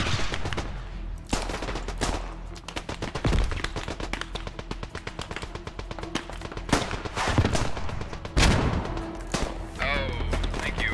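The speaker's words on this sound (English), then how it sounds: "Oh, thank you, artillery." Artillery and gunfire in the trench-warfare video game Beyond the Wire, a dense run of sharp bursts and heavy booms spread over the clip, mixed with machine-gun rattle and battle noise.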